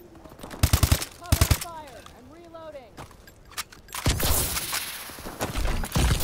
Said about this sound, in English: I'm just going to shoot some enemies first.